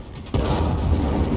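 A grenade explosion in the video game Dying Light 2: a sudden loud blast partway through, then a heavy low rumble that carries on to the end.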